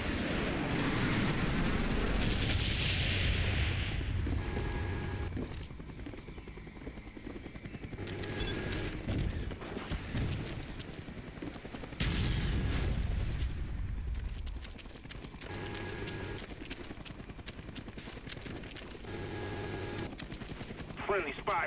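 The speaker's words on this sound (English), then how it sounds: "Friendly napalm strike on the way." Battlefield mayhem from Call of Duty: Black Ops, a team deathmatch on a jungle map, with loud napalm strike explosions and bursts of gunfire rolling through repeatedly, heavy low rumbles layered with crackling shots and game announcer callouts.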